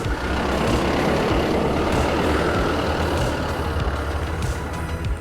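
A bus idles loudly nearby on Yonaguni island in Japan, its engine a steady low rumble that fills the whole stretch, with faint hissing bursts that could be air brakes releasing.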